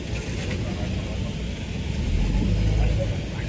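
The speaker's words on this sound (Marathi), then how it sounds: "आपली बस आता सुरू झाली" A bus engine running just after starting on a road trip to Hyderabad: a loud, steady low rumble that thickens slightly toward the end, with some faint talk underneath.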